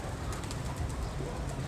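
Soft pigeon cooing and low murmuring calls from a small flock nearby, with faint outdoor background noise throughout.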